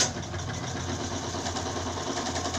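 An electric sewing machine stitches the lining and fabric of a full-sleeve blouse, running as a continuous close motor whir with a faint rapid rhythmic texture and no pauses.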